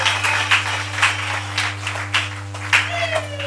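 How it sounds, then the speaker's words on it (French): A congregation at a gospel concert claps in loose, rhythmic bursts under a steady low electrical hum, with voices faintly mixed in. "Si un bien-aimé qui croit peut applaudir"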